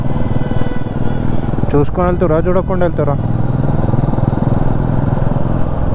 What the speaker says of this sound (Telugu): అరే వీళ్ళ బైక్ది వెనకాల టైర్ మొత్తం పంక్చర్ అయింది.